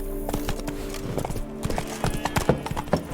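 Roach, a horse in the video game The Witcher 3, gallops with rapid rhythmic hoof clops close by, a brief whinny near the start, loud and continuous.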